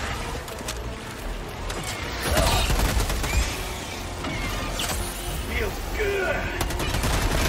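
Rocket launcher firing in the video game Helldivers 2, dense explosive blasts and heavy gunfire layered over a constant battle roar, with a voice speaking briefly.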